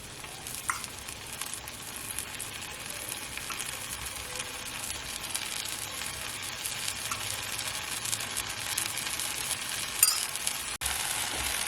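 Millet dosa frying in oil on a pan, a steady, close crackling sizzle that holds evenly throughout, with a faint clink of a utensil near the end.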